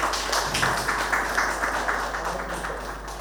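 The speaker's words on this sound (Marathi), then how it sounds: "जोरदार टाळ्या" An audience at a book launch ceremony marking Narendra Dabholkar's death anniversary breaks into steady, dense applause, many hands clapping at once for the full stretch without pause.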